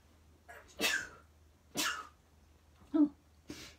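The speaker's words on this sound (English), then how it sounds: "I think I'm going to sneeze in a minute" Three or four short, sharp sneezes with pauses between them, close and fairly loud, with no talking.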